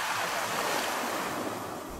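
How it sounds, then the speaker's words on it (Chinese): Sea waves wash steadily onto the shore at Qixingtan's crescent bay beside a seaside home, a continuous broad hiss of surf with a wind-like rush, fairly soft and unbroken, with no voices. "我家住在大海边"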